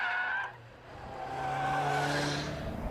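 Vauxhall sports car sliding its rear through a corner, with tyres squealing in rising and falling tonal screeches over engine noise, loud and close, no talk.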